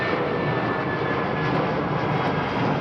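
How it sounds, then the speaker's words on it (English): A Boeing 767 jet departs overhead from London Heathrow, its engines giving a steady, loud broadband roar that holds evenly throughout with no talk over it. "Nice 767 coming out now."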